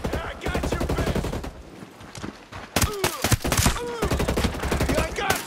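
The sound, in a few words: gunfire in video game Ghost Recon Breakpoint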